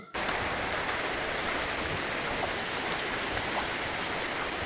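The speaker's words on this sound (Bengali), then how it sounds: "বৃষ্টি কিন্তু খুব পরিমাণে নামতেছে" Heavy rain pouring down outdoors in a village, a dense, constant broadband roar of drops hitting surfaces, loud and unbroken for several seconds, with no voices.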